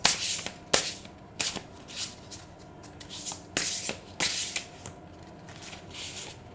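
A deck of oracle cards being shuffled by hand, a series of quick riffling bursts in an uneven rhythm, close and crisp with short pauses between, no talk.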